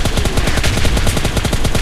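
Rapid gunfire in PUBG Mobile Lite: a loud, dense string of evenly spaced sharp shots rattling without pause, with no talk over it.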